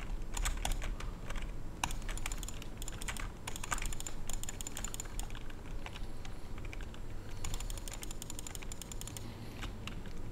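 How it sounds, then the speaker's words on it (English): Rapid, crisp clicking bursts from a Razer Viper Mini gaming mouse during a Bedwars session, coming in fast clustered runs and then short pauses, close and fairly loud with no talking. "the clicks feel really crisp on it"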